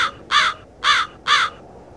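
Three loud, harsh caws from a black bird, evenly spaced about half a second apart, in a children's audio story about a town of balloons, heard alone with no talk.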